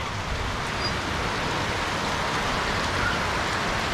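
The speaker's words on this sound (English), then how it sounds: "It's pouring, there's lightning, thunder. How's this rain?" Heavy rain pours down steadily outside during a thunderstorm, a dense, unbroken hiss with no letup, close and loud.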